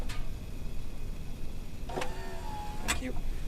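Power retractable running-board steps on a Shelby Baja Raptor truck whir and click as they deploy in short motor bursts, heard over outdoor background noise.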